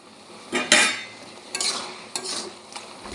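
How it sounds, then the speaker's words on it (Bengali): A spoon stirs tomato chutney in a pan in a few distinct scraping strokes, each a short bright rasp over a low simmering hiss, close and fairly loud, with no talking. "এবার ভালো করে নাড়িয়ে দেবো পুরো টমেটো গলা অবধি"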